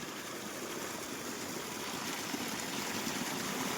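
Mountain water flows steadily down a trekking route toward Rudranath in the Himalaya, a continuous close rushing hiss with no pauses.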